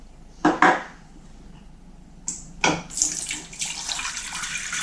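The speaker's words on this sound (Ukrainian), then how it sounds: "Заливаємо водою." Water splashes and pours into a metal saucepan with two tablespoons of salt in short bursts, then flows steadily and louder toward the end.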